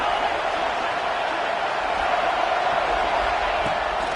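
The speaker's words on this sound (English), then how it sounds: "Decibels rising as the crowd gets behind this defense on third down." Football stadium crowd on a third down, a steady broad roar of many voices holding loud and even throughout with no clear peaks.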